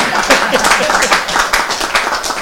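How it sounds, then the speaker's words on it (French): Audience clapping at a gathering honouring a traditional-modern music group, brisk and fairly loud, with voices mixed in under the claps. "On applaudit pour les efforts qui sont faits."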